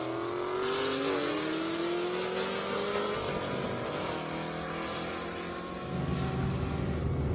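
Dodge Challenger drag car launching hard down an airstrip drag course, engine roaring loud and near with a rising pitch as it accelerates away, steady and unbroken for several seconds.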